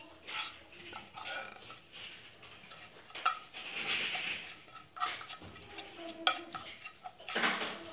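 Meat and cinnamon sticks being mixed in a pot, with irregular clinks and scrapes of utensil on metal and soft shuffling of the contents, close and fairly quiet, no speech.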